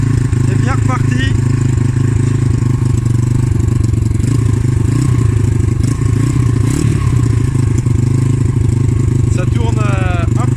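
A dirt bike engine, just back running after its carburetor was refitted, idles steadily and loudly close by, with a constant throbbing rumble and occasional metallic clatter.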